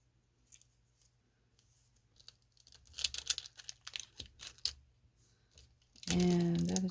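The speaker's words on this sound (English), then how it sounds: "More tear and tape on this side." Crinkly tearing and rustling of Stampin' Up! paper packaging comes in short close bursts, then a loud, steady, drawn-out pull of tape near the end.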